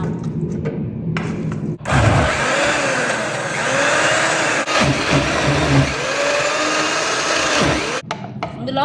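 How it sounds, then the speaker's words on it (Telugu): A mixer grinder grinds fenugreek leaf chutney in a home kitchen in Kuwait, a loud, close motor whir that starts abruptly, runs steadily for several seconds with a slight dip midway, then cuts off. "మిక్సీ అయితే పట్టేసుకుందాం"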